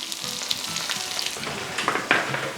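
Five finely chopped small red shallots and split dried red chillies sizzle in hot oil, a close, bright crackling hiss with a few sharper pops and a light stir, no voices.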